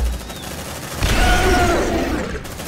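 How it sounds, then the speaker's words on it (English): Sustained gunfire in Aliens: Dark Descent as marines lay down suppressive fire on the alien queen, a dense rattling burst swelling loud midway with booming impacts underneath, then trailing off. "Suppressive fire towards the queen"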